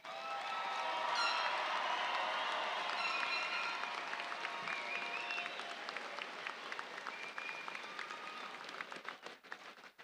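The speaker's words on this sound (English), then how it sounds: "let's have one more round of applause for all of our graduates" An audience applauding graduates at a fall commencement ceremony, with sustained clapping and scattered cheers and whistles that slowly thin into sparse, separate claps toward the end.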